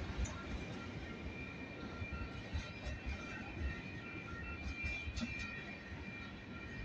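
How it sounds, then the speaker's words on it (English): A train rumbles steadily past with a broad, continuous roar and faint metallic squeals on top, heard from close by. "As you can tell, this train is picking up speed here."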